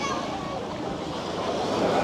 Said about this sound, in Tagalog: Malakas din yung alon,